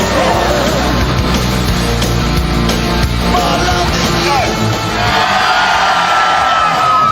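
A studio crowd yells and shouts together to vote a car off, a loud, sustained wall of voices with whoops and bellows that barely lets up.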